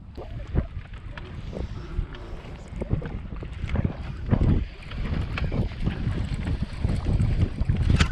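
Wind buffets a microphone on a lake from a bass fishing boat, a steady low rumble with gusty surges throughout, near and loud, alone without voices.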